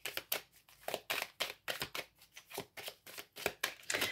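Cards are shuffled steadily during a card reading, a quick run of riffling bursts repeating in a close, even rhythm with no voices over it.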